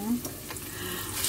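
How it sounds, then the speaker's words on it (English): Chicken pieces being poured into a hot pan for a dish with cauliflower and bell pepper, sizzling and crackling briefly close up as the oil fries them, with faint stirring. "pour the chicken, guys"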